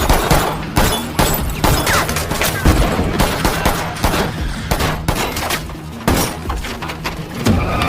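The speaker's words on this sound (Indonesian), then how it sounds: "lalu dilakukan pengejaran terhadapnya yang melibatkan Nivens dan Hal juga hingga terjadi aksi baku tembak di sana." A film shootout fills the soundtrack with loud, rapid gunfire, dense volleys and machine-gun bursts cracking continuously with occasional heavy thuds.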